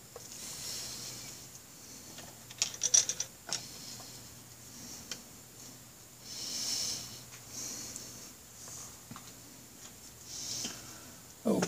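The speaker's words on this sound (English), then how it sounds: "we're putting these down temporarily so I can torque the head down" A ratchet tightens the cylinder head bolts on a Honda Rebel 250 motorcycle, giving quiet, close clicking in short bursts separated by pauses and faint handling noise.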